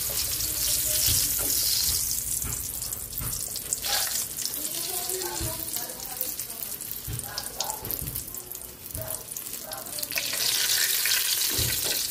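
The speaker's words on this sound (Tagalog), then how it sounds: "Salang natin yung second batch pritong talong" Eggplant frying in oil with a constant crackling sizzle, punctuated by scattered louder pops and clinks, heard up close.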